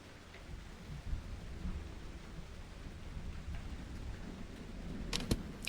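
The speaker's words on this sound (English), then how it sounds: "And now I can hear the rain." Rain and low rolling thunder in the video game Scene Investigators: a faint, continuous rumble with a soft wash of rainfall, ending in a couple of sharp clicks.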